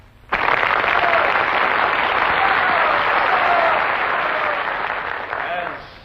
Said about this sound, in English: hearing your applause for the fine talents of Linda Marsh.